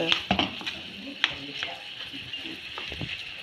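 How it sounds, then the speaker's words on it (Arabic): Kofta frying with onion and garlic in a pan, a soft close sizzle with sharp clinks and scrapes of a utensil against the pan, and a voice partly audible underneath. "هنا الكفته غادي نقليها غير شويه مع شويه تاع بصل وثوم"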